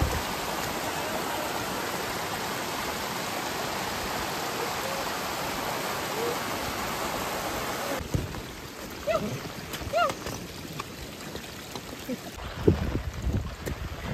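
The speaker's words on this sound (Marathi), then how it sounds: "फुल धबधबा आहे इथे." A full-flowing waterfall on the Harishchandragad trek roars as a dense, steady wash, then recedes after the first half into quieter rushing water with scattered small noises.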